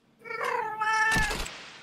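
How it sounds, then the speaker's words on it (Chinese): One long, wavering meow from a young pet cat, two or three years old, close and clear with nothing else around it. "让各位来听一下猫咪的声"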